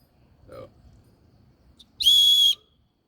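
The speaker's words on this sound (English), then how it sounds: "This also comes with a whistle in it as well." An emergency whistle from a survival box gives one short, loud, piercing blast near the end, after a brief quiet voice and some faint handling noise.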